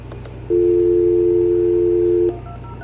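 A single steady dual-tone DTMF beep sounds from the base speakerphone of an AT&T EP5995 phone, loud and close, holding for about two seconds before cutting off into a faint background hum.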